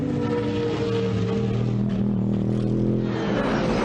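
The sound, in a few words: British GT race cars racing at Rockingham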